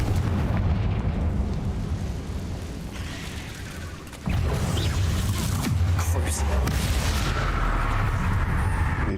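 A Confringo fire spell in the Hogwarts Legacy video game bursts as a loud, dense explosive blast. Booming game combat noise fills the whole stretch, with a sharp renewed surge partway through and speech mixed in.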